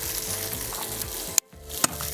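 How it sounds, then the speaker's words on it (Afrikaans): Sausage (wors) frying in a pan in a kitchen, a steady close sizzle and crackle that cuts out abruptly near the end with a couple of sharp clatter-like clicks. "Ons gaan die wors nie meer as dit braai nie, so ek gaan hom afhaal want die pan kan stop."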